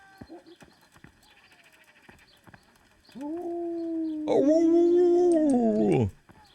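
Dog in the medieval video game Kingdom Come: Deliverance, heard as a few faint rustles and clicks followed by two sustained, rising howling barks that grow louder and then stop abruptly.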